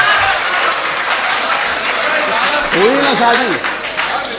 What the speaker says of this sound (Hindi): जोरदार तालियों से इस्तकबाल किया जाए